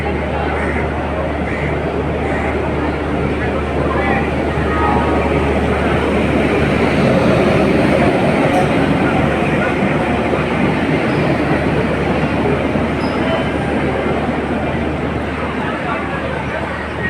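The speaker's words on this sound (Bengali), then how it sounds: "এখন ঢুকছে ট্রেনটি 19 নম্বর প্ল্যাটফর্মে।" A train rolls into a platform at Howrah station, a loud continuous rumble of wheels and carriages with faint rail clatter throughout, and voices talking over it.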